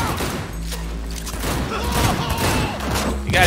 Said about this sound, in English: You gotta shoot him a million times.